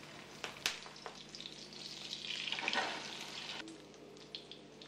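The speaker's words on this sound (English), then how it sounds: "Sauté over medium heat until golden." Guauzontle flower heads dipped in whipped egg sauté over medium heat in a pan, a faint, soft sizzle with a few small clicks and a brief swell of crackling midway.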